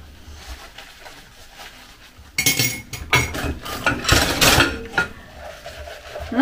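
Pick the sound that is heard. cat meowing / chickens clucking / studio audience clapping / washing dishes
washing dishes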